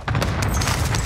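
Gunfire in a first-person shooter: a sustained barrage of overlapping shots and booms, loud and continuous for about a second with no voices.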